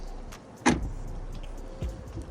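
A Mini Clubman's manual rear split barn-style doors opening: a sharp unlatching clunk, then a softer second click a moment later, close by and otherwise quiet.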